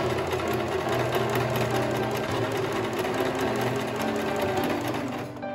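A sewing machine stitches fabric for flaxseed hand warmers with a continuous, close, fast-whirring mechanical drone that stays even throughout and eases off slightly at the very end.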